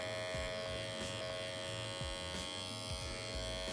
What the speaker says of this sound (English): I'm just going to work around using the corner of our trimmer,